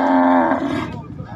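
A cow at a crowded Eid cattle market in Morelganj lets out one loud, close moo with a strong harmonic tone that holds for about half a second before fading, and market chatter and background noise carry on underneath.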